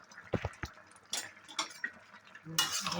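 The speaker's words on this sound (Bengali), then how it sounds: "এভাবে মিশিয়ে দিলাম।" Prawn curry being stirred and mixed in a pan, a few soft scraping and clinking spoon strokes at irregular intervals, close and fairly quiet, with no talk.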